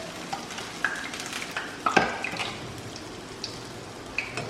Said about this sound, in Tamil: நல்லா கோல்டனாக ஆகிற வரைக்கும் ஃப்ரை பண்ணி எடுத்துருவோம். ஸோ ஓரளவுக்கு ஹை ஹீட்டில் வச்சே ஃப்ரை பண்ணுங்கள்.